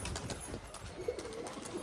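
A pigeon coos in a few soft, low, rounded calls over a steady background hiss, moderately distant and not very loud.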